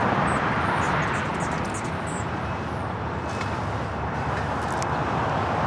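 Austrian Airlines Boeing 777-200ER in special livery taking off at LAX, heard as a broad, steady jet roar from a distance that holds evenly throughout with no talk over it.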